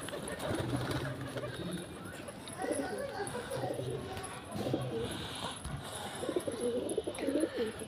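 Domestic pigeons coo repeatedly in soft, low, throaty bursts at close range, with other bird sounds faintly around them and people talking nearby.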